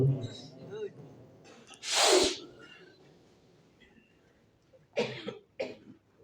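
A single loud, harsh cough bursts out near the mic, followed moments later by a couple of softer cough-like bursts amid quiet background.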